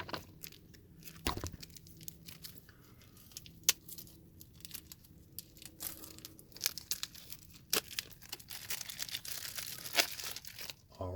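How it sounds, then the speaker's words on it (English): A RadLands card game box being cut open and unwrapped, with close crinkling plastic, tearing and crunching packaging noises and a few sharp snaps scattered through the stretch, no talking. "Cut this open."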